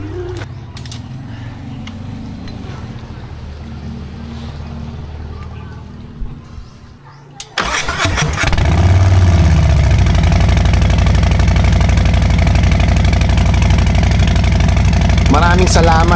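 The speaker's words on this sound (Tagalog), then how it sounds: "Kahit sino naman na naka-Harley, mas gugustuhin talaga ang tunog na mala popcorn" A Harley-Davidson motorcycle fitted with a new muffler cranks and fires up after a quieter stretch, then settles into a loud, close, steady idle with a throbbing lumpy rumble.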